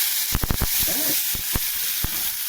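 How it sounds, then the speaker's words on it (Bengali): Salt and turmeric sizzling in a frying pan, with a soft steady hiss and a few sharp scrapes and taps from stirring. "স্বাদ মতো নুন আর হলুদ দিয়ে দেওয়া হলো, একটু নাড়বো"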